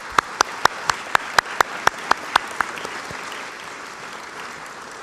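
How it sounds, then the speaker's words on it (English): Sparse audience applause at a Des Moines author event: a short run of about ten crisp, evenly spaced claps over a soft crowd wash, fading out after under three seconds. "So let's give a round of applause to all those people."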